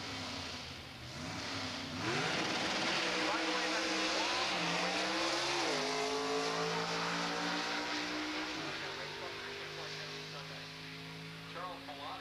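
Classic Chevrolet drag car making a quarter-mile run, the engine heard from a distance as a droning roar that climbs in pitch through several gear shifts and then fades; no one talks.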